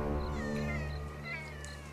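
A cat meows repeatedly in a drawn-out, caterwauling tone, close and loud, with a steady low hum underneath and no talking.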